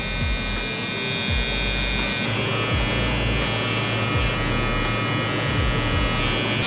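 Electric hair clippers cutting a back taper on curly hair, a loud continuous close-up buzzing drone with slight changes in pitch as the blades move through the hair.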